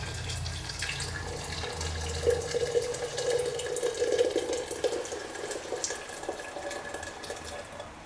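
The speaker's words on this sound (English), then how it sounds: "I take my coffee canter and just pour it in there." Egg coffee is poured into a coffee canter indoors, giving a close, trickling liquid stream that swells and splashes for several seconds before thinning, with no speech.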